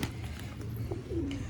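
Pigeons coo softly against a low, steady background rumble, a single faint call rising briefly near the end.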